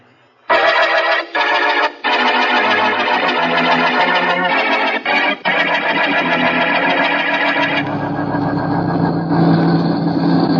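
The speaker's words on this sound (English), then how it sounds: "I've got to get my truck through." A truck engine from an old-time radio crime drama runs loud and steady as a sound effect, with a couple of brief dips early on before the droning tone shifts lower near the end.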